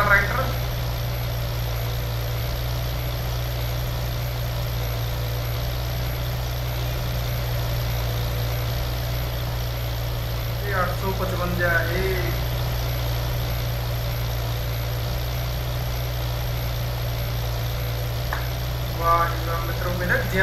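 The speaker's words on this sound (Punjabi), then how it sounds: "ਆਉਂਦਾ ਫਿਰ ਧੂੜਾ ਪੱਟਦਾ ਟਰੈਕਟਰ" A Swaraj 855 tractor in Farming Simulator 22 drones steadily with a deep, constant engine hum under continuous talking, with a few brief clanks and rattles breaking through.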